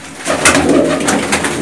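Racing pigeons in a kabootar bazi loft give soft repeated coos close at hand, alone and fairly quiet.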